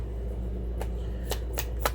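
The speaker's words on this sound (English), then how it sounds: "I feel like at first it didn't want to shuffle, and now it's trying to." Tarot cards shuffled by hand at close range, a few sharp riffling bursts spaced irregularly over a low steady background, with no talk.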